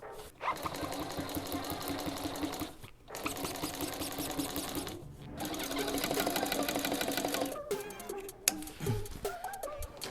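An upholstery sewing machine stitching car seat covers chatters in long steady bursts with brief stops between runs, close and fairly loud, followed by a few scattered clunks and handling noises near the end.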